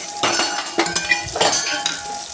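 Bottle gourd pieces tipped into a pan of tempering, with close metal utensil clinks and scrapes and a light sizzle underneath, several quick knocks in a short burst.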